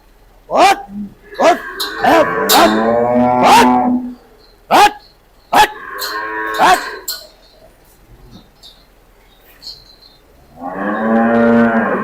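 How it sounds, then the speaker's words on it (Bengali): Cows at a dairy farm give several loud, drawn-out moos close by, spread across the stretch with quiet gaps between them. "এই যে এখানে অনেক গরু"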